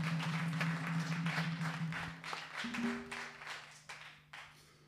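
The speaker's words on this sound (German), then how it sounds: "Vielen Dank und einen Applaus an Thorsten." Applause for a cameraman at a club event, a quiet patter of hands clapping with a sustained low hum underneath, the claps thinning toward the end.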